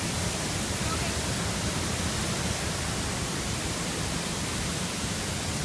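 Standing above the main falls at Budlaan/Kabang Falls: a loud, constant roar of rushing water that fills the scene evenly, a dense broadband wash with no breaks, heard close.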